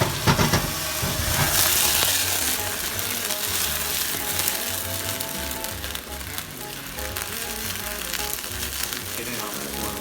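Brandy hits a hot pan for a pesto brandy sauce and sizzles and flames, a loud, dense hiss that flares at the start and then holds steady and close throughout.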